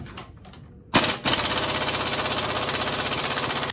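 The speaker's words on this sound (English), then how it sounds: "I gotta remove that bolt." A pneumatic impact wrench hammers rapidly and loudly at a stuck suspension bolt on a Trailblazer SS during a coilover install, a short burst, then a sustained run after a brief lower rattle.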